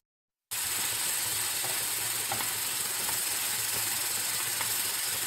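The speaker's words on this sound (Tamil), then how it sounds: "இப்போ நல்லா வதக்கிக்க போகிறோம்." Carrot and onion with salt and turmeric sauté in a pan, a steady close hiss of sizzling that starts abruptly after a brief silence and holds evenly.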